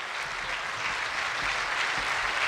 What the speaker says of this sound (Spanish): Con el aplauso nosotros acompañamos la entrega de estos reconocimientos